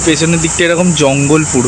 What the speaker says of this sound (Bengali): আর আওয়াজটা হচ্ছে শুনুন, ঝিঝি পোকা।